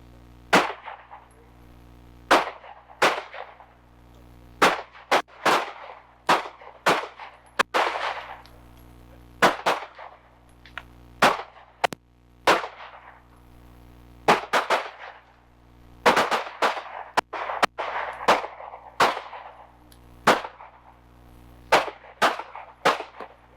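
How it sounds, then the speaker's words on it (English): Gunshots ring out from students firing at targets from awkward stances on a shooting range, a long series of sharp, loud reports in scattered pairs and clusters with short echoing tails and no talking. "Go that way, get a couple of shots, switch your feet, get to the other side, lean over and get a couple shots."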